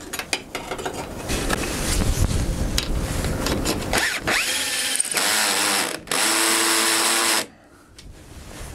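A power drill drives bolts into a solar panel mounting, whirring in several close, loud bursts with metallic clatter and handling noise between runs, then stopping abruptly.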